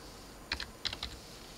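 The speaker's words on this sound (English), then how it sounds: "So I'm going to type in health." A brief, quiet burst of keystrokes on a computer keyboard: two quick clusters of light clicks over steady room hiss.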